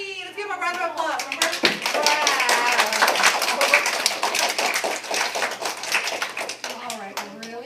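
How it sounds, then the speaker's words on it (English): A classroom of students claps for a quiz winner, dense rapid hand claps running steadily for several seconds, with children's voices and talk mixed in at the start and end. "Let's give him a round of applause."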